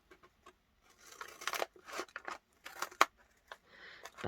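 Scissors slice through two folded pages of paper, a handful of crisp snips and crinkles close by between brief pauses, with no one talking.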